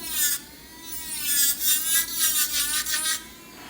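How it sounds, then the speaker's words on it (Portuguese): An electric nail drill files down a polygel nail, its high motor whine rising and falling in repeated rasping passes, close and fairly quiet. "então eu vou passar mais um pouquinho a broca"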